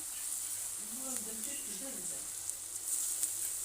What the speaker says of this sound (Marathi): तळून घेऊयात भजी पण तेल आता छान कडकडीत गरम करून घेतलंय तर भजी सोडून घेऊ याच्यामध्ये